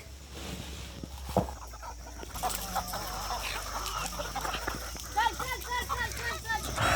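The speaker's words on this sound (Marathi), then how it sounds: "हे बघा आपण खाद्य आणलेलं आहे कोंबड्यांजवळ आता आपण त्याला टाकूत बघा सगळ्या कशा एकत्र होत्यात आणि कशा खायला तुटून पडतात" Chickens crowd together over thrown feed, clucking and squawking close by. The clucking grows busier toward the end, and a person speaks over it.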